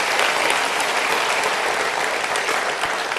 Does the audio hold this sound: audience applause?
yes